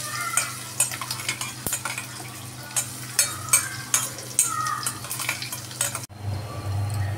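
Curry leaves, crushed green chili, garlic and ginger frying in oil while a spoon stirs and scrapes the pan in repeated uneven strokes over a low sizzle, close by with no speech; it stops abruptly near the end.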